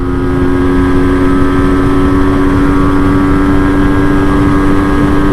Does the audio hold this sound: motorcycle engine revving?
yes